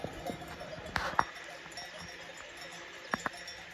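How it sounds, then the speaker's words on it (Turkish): Goats being herded past a shepherd at a nature camp in Bolu, Turkey, give a few faint bleats while bells clink softly, with a couple of sharper clanks standing out over quiet outdoor background. "Çoban unutma keçilerini."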